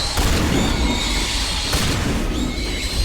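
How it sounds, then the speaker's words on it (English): A grenade goes off in Mass Effect Legendary Edition, a loud, dense boom with sharp bursts that fills the whole stretch and leaves the low end rumbling close by. "Let's throw a grenade."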